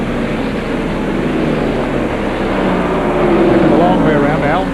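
Stock cars racing side by side at North Wilkesboro in the 1992 First Union 400, including Ricky Rudd's No. 5 and Dale Earnhardt's No. 3: a loud, steady engine roar that swells slightly, with a commentator talking over it.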